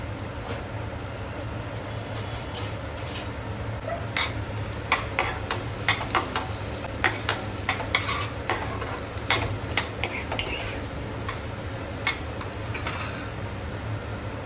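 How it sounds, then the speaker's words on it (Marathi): A medium onion sautés in a pan over a gas stove, with a steady sizzle beneath repeated sharp scrapes and clinks of a spatula stirring, close and fairly loud throughout. "एक मीडियम साईजचा कांदा घेतलेला. सो आता तो छान परतवून घ्यायचा."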